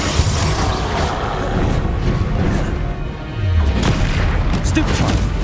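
Confringo blast spells going off during Hogwarts Legacy combat: dense, continuous booming crashes and heavy impacts over a low rumble, loud throughout with a brief dip near the middle.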